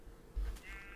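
A single sheep bleat from the Minecraft video game, a short, fairly faint wavering cry that rises and holds briefly with no talk over it.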